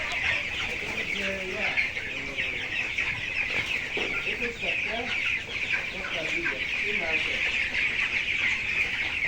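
A flock of 22-day-old farm chickens, underweight for their age, clucks and cheeps continuously close by, with people talking in the background throughout.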